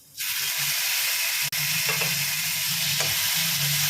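Chopped onion and tomato hit a hot pan and sizzle loudly and steadily, with a few soft scrapes of a spatula stirring them, close up and alone.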